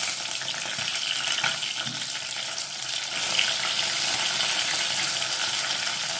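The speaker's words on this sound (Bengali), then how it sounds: "এবার গ্যাসের ফ্লেমটা লো টু মিডিয়াম ফ্লেমে রেখে আস্তে আস্তে ভেজে নেব" Pieces of katla fish fry in a pan over a low-to-medium gas flame, giving a steady, dense sizzle throughout with faint clinks and stirring noises underneath.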